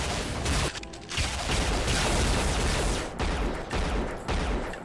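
Gunfire in the Unreal 98 Remaster game, dense rapid bursts of loud shots that pound almost without a break and pause only briefly a few times, with no voices.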